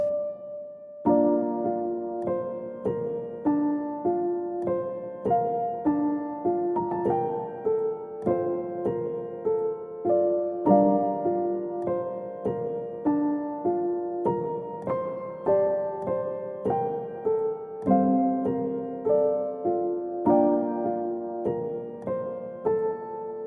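Skyrim-style orchestral music arrangement with sustained layered chords and a counter melody, moving in a steady, slow, stately rhythm, fairly soft and continuous throughout, with no talking.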